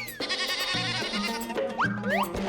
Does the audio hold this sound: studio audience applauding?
no